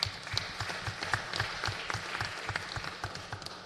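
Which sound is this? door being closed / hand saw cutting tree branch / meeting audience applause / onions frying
meeting audience applause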